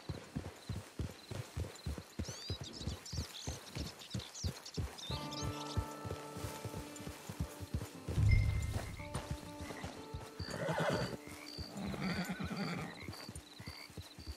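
In the Red Dead Redemption II online game, a horse's hooves clip-clop in a steady rhythm, then the horse lets out a whinny and snorts while hoofbeats continue, fairly quiet and close.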